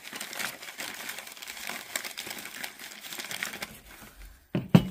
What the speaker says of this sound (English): Gonna be unwrapping for days.